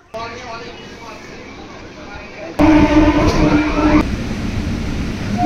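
A local train waits at a station platform before departure, a steady rumbling hum that grows abruptly louder partway through and stays loud under a continuous, noisy background.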